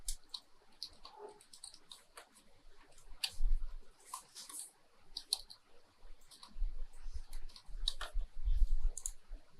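Light typing on a computer keyboard while entering text in CorelDRAW, soft scattered key clicks in irregular clusters, close but quiet, alone without speech.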